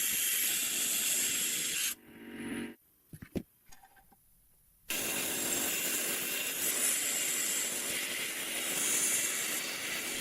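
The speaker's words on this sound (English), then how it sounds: "He places the chassis plates into the sandblasting chamber to thoroughly remove old grease and accumulated rust from the inside." Gramophone chassis plates are sandblasted in a blasting chamber to strip old grease and rust, giving a loud, steady roaring hiss that cuts out for a few seconds with short bursts in between, then resumes at full force.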